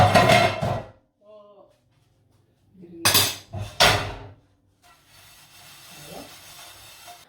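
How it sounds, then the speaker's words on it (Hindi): Dishes, pots and utensils being washed by hand: loud clattering bursts of metal vessels knocking together, separated by quieter stretches of running water and small clinks, close by. "ये 5वां बार बर्तन धुल रहे"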